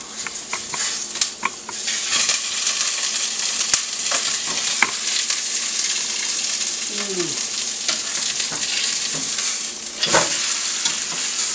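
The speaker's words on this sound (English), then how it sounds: "a little brown in there, not much, just a little brown." Continuous crackling sizzle of food browning in a pan for turkey stuffing soup, close and even, with occasional clinks and stirring scrapes.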